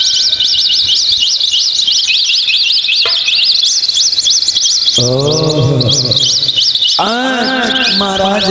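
Peacock and papiha birds call with a loud, shrill warbling whistle that runs on continuously, joined near the end by louder swooping cries.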